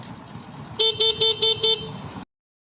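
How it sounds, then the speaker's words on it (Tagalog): Five short, evenly spaced honks from a Honda Wave 125 motorcycle's stock horn, loud and close, over a low idling engine. "Stock horn."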